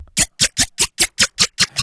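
A Serum synth lead fires eight short, punchy, bright stabs in an even fast rhythm, each cut off by silence, loud and without talk.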